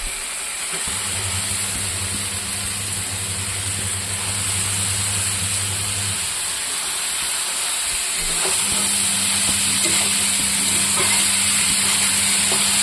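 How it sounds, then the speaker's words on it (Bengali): Bottle gourd frying in a pan with fish, a broad steady hiss and sizzle, loud and close, with low hums underneath and no talk. "দিয়ে আমি অল্প ভাজা ভাজা করবো, ভাজতে দেবো"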